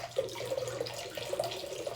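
Water poured into a small two-litre Madeira whisky cask made of wood, a steady close splashing and trickling run with a few brighter gurgles, heard alone.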